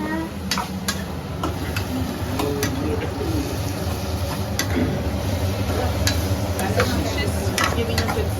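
A tomato mixture is stirred in a cooking pot in a home kitchen, a steady scraping, bubbling simmer with soft spoon knocks, and birds cooing faintly in the background.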